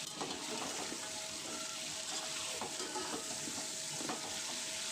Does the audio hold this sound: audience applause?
no